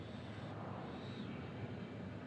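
An airplane at Honolulu airport produces a steady, faint engine drone heard from a distance, a continuous broadband roar with no clear change over a couple of seconds.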